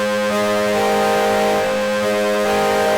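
A Serum synth oscillator pushed through gritty distortion holds a steady buzzing tone with stacked harmonics, loud and continuous, shifting slightly in texture partway through with no voices.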